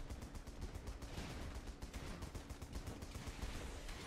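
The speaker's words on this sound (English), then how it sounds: "I'm just bombarding it with rockets" Rocket bombardment of a coastline in the video game Running with Rifles, a dense continuous barrage of rapid blasts and crackling detonations at fairly low level.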